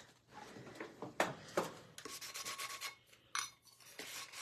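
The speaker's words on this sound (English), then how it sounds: "But before I do that, I think I need to sand it." Someone hand-sands a frame before painting it, producing short, uneven scratchy rubbing strokes, some quick and some longer, close and fairly quiet, with no talking.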